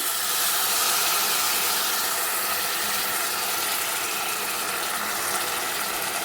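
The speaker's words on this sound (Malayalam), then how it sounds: "ഇതിൻ്റെ മേലേക്ക് ഞാൻ കുറച്ച് പുളിവെള്ളമാണ് കേട്ടോ ചേർക്കുന്നത്" Tamarind water poured over sardines in a pressure cooker, a steady hissing, splashing stream, close and continuous without pause and with no voices.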